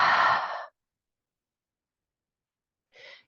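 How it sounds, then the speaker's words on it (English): A single strong breath blown out through the mouth during a floor-based relaxation exercise, then silence, then a brief soft exhale near the end. "Take a breath in through your nose and blow it out through your mouth."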